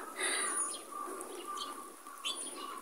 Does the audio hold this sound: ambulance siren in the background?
no